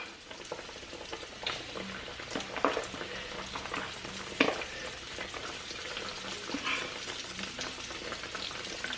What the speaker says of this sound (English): as soon as that tomato hit that grease, it started frying